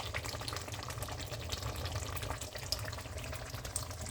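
Fumbwa stew with smoked ribs bubbling vigorously in oil, a dense continuous sizzling and bubbling wash at steady loudness throughout, close and without talking.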